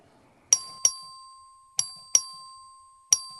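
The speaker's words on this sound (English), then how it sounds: "The clerk will ring the bell." A voting bell in the Texas House chamber rings five times in uneven strikes, each a clear metallic ding with a ringing tail, in an otherwise quiet room.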